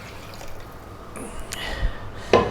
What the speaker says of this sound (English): Just cold water, and in that goes.